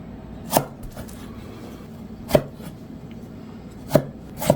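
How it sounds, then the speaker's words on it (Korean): A knife cuts peeled tomato into rough chunks on a board, four crisp chops spaced about a second or more apart, close and clear over a quiet kitchen background. "프라이팬에 볶기 편하게 듬성듬성 썰면 돼요"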